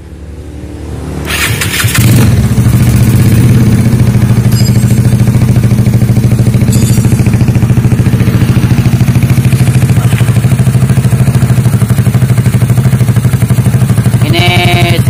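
A Yamaha Mio scooter engine bored up to 52mm with standard valves and a PWK carburettor starts and then idles loudly and steadily at close range, with a couple of brief higher blips near the end.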